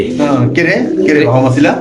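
An American crest pigeon coos in soft repeated phrases close by, while someone talks over it throughout.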